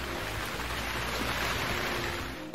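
Heavy rain downpour pouring steadily without pause, a dense, even wash of noise that stays loud and close throughout, with no voices.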